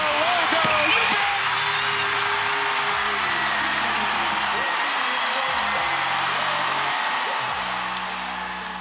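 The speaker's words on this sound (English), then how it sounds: "I've never seen a WNBA crowd go this crazy." A WNBA basketball arena crowd roaring and cheering wildly, a loud sustained wall of voices that fades slightly at the end, with a commentator talking over it.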